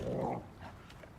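A dog in the survival video game Icarus gives a short, close bark or growl, a single burst that drops quickly away.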